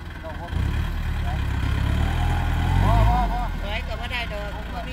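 A farm tractor's engine rumbles low and steady as it sits stuck in wet mud in a rain-soaked rice field at harvest. The engine swells briefly near the middle, and voices talk over it.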